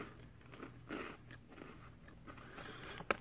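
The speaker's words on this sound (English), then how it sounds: "Has a nice crunch." A honey-flavored cream wafer gets bitten and chewed close to the mic, with soft crunching and one sharp crisp snap near the end, quiet and without talk.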